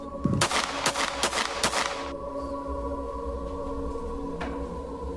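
Four sharp gunshots are fired in quick succession during a reenactment of a shooting inside a house, loud and close, followed by a quiet hum.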